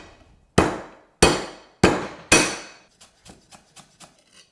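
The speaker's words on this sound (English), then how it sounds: "In lemongrass, you want to bash and really nicely finely chop up." Lemongrass for a Vietnamese BBQ pork chop marinade is bashed with four loud, sharp, close thuds, followed by a run of lighter, quicker knocks as it is chopped.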